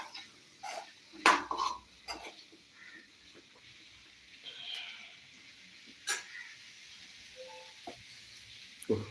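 A spoon scrapes and clinks against a pan while food is stirred during breakfast cooking of appam and chickpea curry, intermittent sharp metallic knocks over a quiet background.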